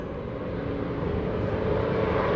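A steady, droning engine roar from the Aeroshell Aerobatic Team's planes at the 2016 Greenwood Lake Airshow, fairly loud and continuous, building slightly as the aircraft approach.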